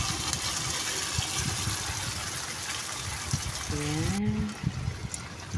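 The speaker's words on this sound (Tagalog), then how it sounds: "Tapos ilagay natin ang ating coconut milk o gata." Coconut milk pours into a cooking pot for fish simmered in coconut milk, a steady close gushing trickle with a brief spoken word near the end.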